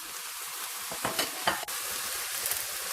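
Vermicelli and minced pork are stir-fried in a hot wok, a steady close sizzle with a few sharp scraping and tossing bursts of the spatula in the middle, and no talking.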